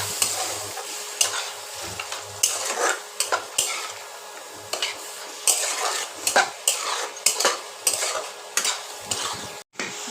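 Fish heads sizzle in hot oil in a pan while a spoon stirs and scrapes repeatedly, giving bursts of clinking and frying crackle at close range over a steady quiet sizzle.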